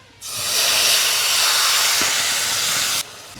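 Tomato-onion paste hits hot mustard oil seasoned with panch phoron, giving a loud, steady sizzle that starts abruptly and holds for about three seconds before cutting off.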